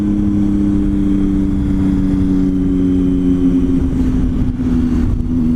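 A Triumph Tiger motorcycle on a test ride, its engine holding a loud, steady mid-pitched drone with constant wind rush and no talk.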